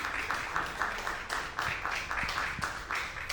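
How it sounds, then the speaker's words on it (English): Audience applause at an event held at the DuSable History Museum Education Center, a steady wash of clapping from a moderately sized crowd, somewhat distant and soft, continuing without pause. "give another round of applause to the Dusable History Museum Education Center"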